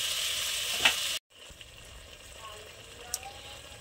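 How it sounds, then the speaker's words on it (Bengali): Malpua batter dropped into hot oil in a wok, a hissing sizzle that cuts off briefly, then returns as a quieter bubbling fry with a few small pops. "এদিকে এই যে মালপোয়ার ব্যাটার এবার আমি একে একে ভেজে নেব।"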